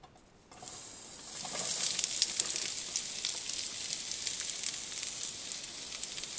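Onion dropped into a hot frying pan for an omelet, bursting into a loud, steady sizzle that starts abruptly and holds without a break, with a few faint utensil clicks.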